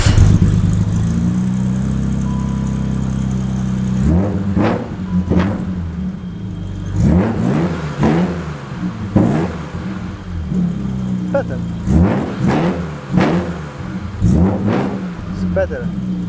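BMW E32 730i with a rough-running engine started up and revved repeatedly, a steady idle followed by a series of sharp rising-and-falling revs, close by, with people talking over it.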